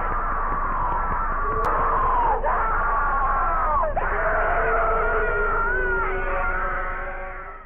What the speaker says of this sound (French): les cris me terrifiaient